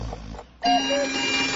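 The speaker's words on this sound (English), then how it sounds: "Did you set every alarm clock in the entire house?" Alarm clock ringing in a radio commercial, a bright, loud electronic ring that starts abruptly after a brief quiet moment and continues steadily to the end.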